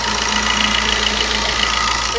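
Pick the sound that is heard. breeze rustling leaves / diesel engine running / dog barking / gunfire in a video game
diesel engine running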